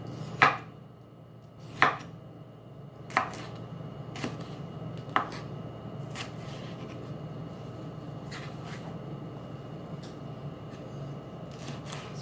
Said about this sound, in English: I'll do that before I cut up the onion